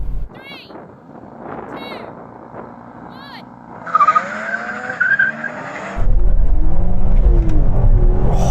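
BMW M3 cars of different generations launch in a drag race: after a few brief voice sounds, a high tire squeal rises, then a loud, sustained engine roar takes over and holds to the end.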